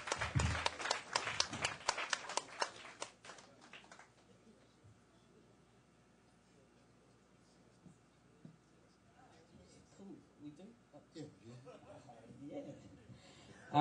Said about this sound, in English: Give a round of applause for that, girl.